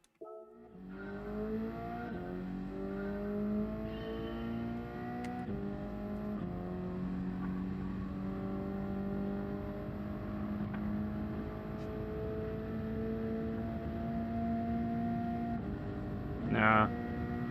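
A race car engine in Gran Turismo 7 on the Willow Springs short track, revving hard and climbing through gears in a steady sustained drone with a brief rise at the end, while someone talks over it.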